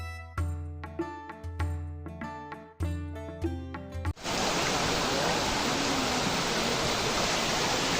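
Khoiyachara waterfall in full monsoon flow roars as a steady, dense rush of falling water, loud and continuous, after a few seconds of plucked music at the start.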